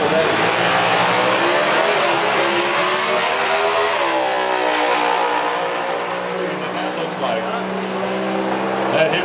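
Hemi Super Stock drag cars in an NHRA SS/AH Hemi Challenge race at Indianapolis, a loud sustained engine roar that climbs in pitch as they accelerate down the track, with an announcer talking over it.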